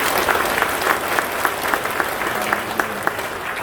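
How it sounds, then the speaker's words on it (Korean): Applause from a church congregation at a dedication and pastor installation service, steady clapping filling the room with scattered louder claps, sustained throughout. "다시 한번 박수 한번 해주시기 바랍니다"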